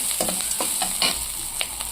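Sesame seeds fry lightly in a pan, a steady close sizzle with soft scraping stir strokes and small pops scattered through it.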